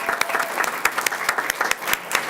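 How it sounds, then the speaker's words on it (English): At a forum on corn, climate and conservation, a small audience claps in distinct, sharp individual hand claps, fairly close and loud, forming a brief scattered round of applause. "can we give them a round of applause because they're awesome"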